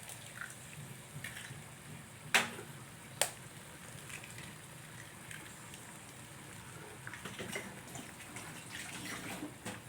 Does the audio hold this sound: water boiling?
yes